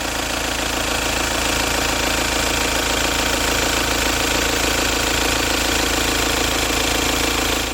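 A 2014 Volkswagen Passat SE TDI with its CKRA diesel engine idles up close, giving a steady, even rumble with a faint knocking texture that holds at the same loudness from start to finish, with no talking.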